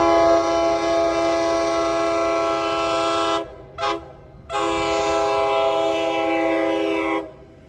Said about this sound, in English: First up is an inbound train with 795 at the lead.